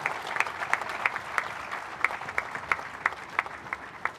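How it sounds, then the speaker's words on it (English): Scattered applause at a ceremony greeting a vice president from China, with distinct claps popping out over a thin, steady patter of hands. "A round of applause for Mr."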